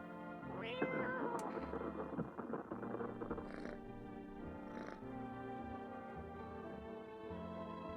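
A cat meows in the video game No I'm Not a Human, a clear rising call near the start followed by softer meowing and purring over a steady game music bed.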